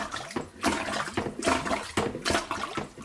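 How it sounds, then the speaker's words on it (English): Water surges and gurgles up through a bathtub from a self-plunging toilet, coming in repeated rushing bursts about every half second, close and moderately loud with no talk. "Since the water is coming up through the tub, that's probably where she'll end up too, right?"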